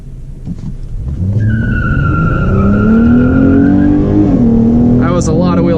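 A 2017 Dodge fitted with an aFe Momentum GT cold air intake launches hard with wheel spin. The engine roars and rises in pitch close by, and tire squeal joins near the end.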